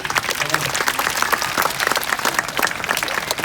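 Crowd applause at an Australian Spirits of the Sky bird show, a full, close round of clapping that holds steady and lively throughout.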